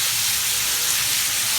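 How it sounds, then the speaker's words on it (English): Minced meat frying in a pan gives a steady, close, broadband sizzle that stays even throughout, with no talking. "Now my meat is frying here"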